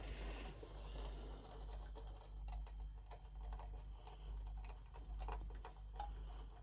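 Small CM screws are driven into a Nissan Skyline GT-R model build, making faint, quick ticking and clicking sounds from a screwdriver at close range, with a steady low background hum.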